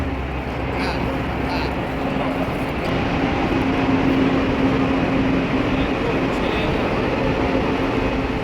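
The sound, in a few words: high-speed train to Mecca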